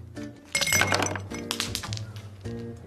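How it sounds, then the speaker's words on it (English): Ice cubes clatter and clink into a tall cocktail glass in a few bright bursts, close and crisp over soft background music. "fill a tall glass with ice"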